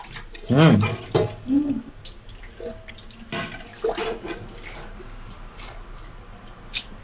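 Tap water runs steadily into a home kitchen sink while dishes are scrubbed and rinsed, with splashing and drips, near and moderately loud, under a muffled, gagged voice talking.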